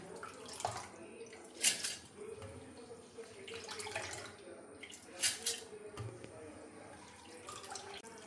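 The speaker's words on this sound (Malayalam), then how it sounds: "ആവശ്യത്തിന് വെള്ളം ഒഴിച്ചു" Water is poured onto soaked rice in a kitchen vessel while preparing idli batter, giving repeated splashing gushes and trickles that come and go in short bursts.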